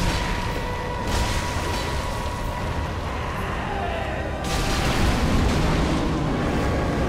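Rumbling, booming explosions in Dark Souls 3, a sustained roar with heavier bursts, loud and continuous.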